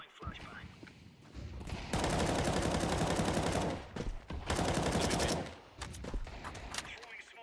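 Video game gunfire rattles in two long, dense bursts of rapid shots, with a flashbang in a tactical shooter match, between quieter stretches of scattered noise and voices.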